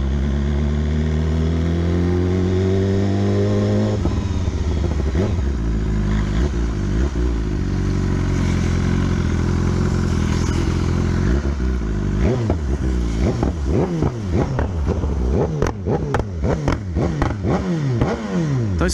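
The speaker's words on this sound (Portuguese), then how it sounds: "Tá estourando assim, porque com o escapamento o Dragão já colocou e levou pra remapear esse módulo aqui" A customized 2019 BMW S1000 motorcycle with an aftermarket exhaust and remapped engine module idles, then revs up and down repeatedly. Loud, sharp exhaust pops and crackles burst out on the overrun, close by and with no talking.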